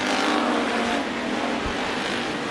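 Race cars roaring around the oval track at Bakersfield Speedway, a continuous loud engine drone from the pack, steady and fairly close, with no clear talking.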